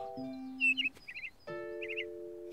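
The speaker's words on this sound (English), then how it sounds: "That sounds like a bird." A bird chirping in the countryside, with short high tweets in two bursts over a soft tonal background of a cartoon scene, fairly clear and close.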